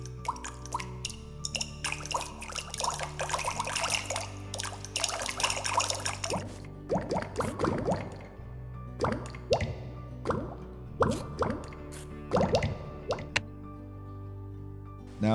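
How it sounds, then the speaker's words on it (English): Modded Minecraft water and lava drip effects play as a run of close, wet plops and squishy drips, first dense and overlapping, then spaced into separate irregular drops. "Drip sounds add sound effects to the default water and lava drip particles."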